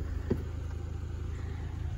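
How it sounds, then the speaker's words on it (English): A 2020 Lexus IS 300 four-cylinder turbo engine idles with a low, steady exhaust rumble, close and fairly quiet, with a brief faint click near the start. "or the exhaust purring of that four cylinder."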